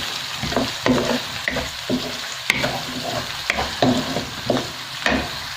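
Ginger and garlic fry in oil, sizzling steadily in a pan while a utensil stirs and scrapes in uneven bursts, close and fairly loud, with no talking.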